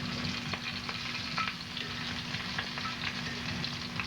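Unbreaded shrimp scampi browning in a frying pan give a steady close sizzle with crackling pops throughout, a constant low hum underneath and no voices.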